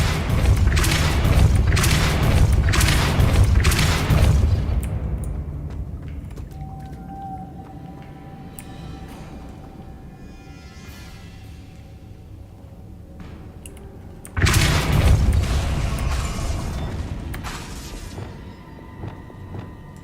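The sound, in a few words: Depulso spell blasts in Hogwarts Legacy video game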